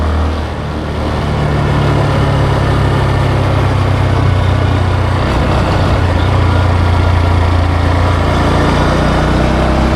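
Honda Grom motorcycle engine on a long ride over highway and trails, a loud close steady drone with wind rush that holds level throughout.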